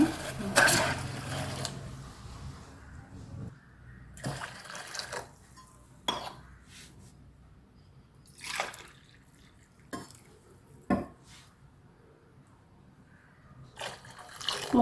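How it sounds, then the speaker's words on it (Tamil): Water poured from a tumbler into a dry pan while cooking black urad dal kali, heard as several separate splashing pours with quiet gaps between them, close and alone. "இப்போ அதே டம்ளரில் தண்ணி ஊற்றிக்கிறேன்"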